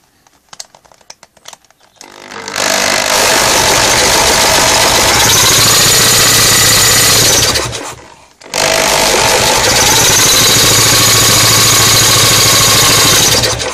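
A loud, steady motorized whine runs continuously, cuts out briefly, then starts again at full power for several more seconds.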